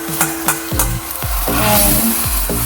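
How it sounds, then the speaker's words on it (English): Seasoned pork belly for Vietnamese caramelized thit kho cooks in a pan with fish sauce, giving a steady loud sizzle broken by several low knocks and scrapes of stirring. "We're going to add our seasoned pork belly into here."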